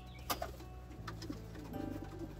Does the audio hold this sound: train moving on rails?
no